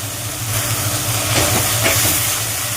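Ground coriander, cumin and chilli powder frying in hot oil for a Bengali fish curry give a steady close hiss and sizzle, with a faint low hum running underneath throughout.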